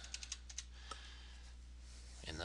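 A few light, quick keystrokes on a computer keyboard, a short burst of soft clicks near the start, then a single click and quiet hum, faint and close.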